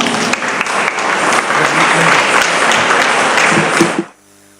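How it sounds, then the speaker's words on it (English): Audience applause at a national-level dance competition, loud, close clapping from a large crowd that holds steady, then cuts off abruptly near the end. "Let us all welcome with big round of applause."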